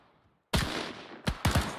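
Gunfire from a World War II video game: silence, then a loud close blast with a long ringing tail, followed by two more sharp shots in quick succession.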